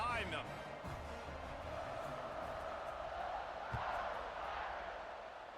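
A stadium crowd in a college football video game roars steadily before a kickoff, a broad continuous swell of cheering under a commentator's voice.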